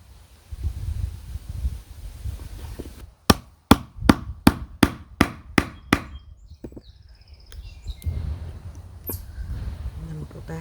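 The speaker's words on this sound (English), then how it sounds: "I'm going to hammer at the bottom." Hammer blows on the bottom of a Scottish spindle being carved by hand, about eight sharp, evenly spaced knocks ringing out close and loud, with rustling and handling noise before and after.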